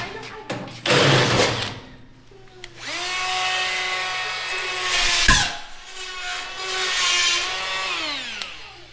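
Power drill boring out bolts during a workshop build, a sustained whining motor with a rising and falling pitch across several long runs, one sharp clank partway through, close and loud with faint voices at the start.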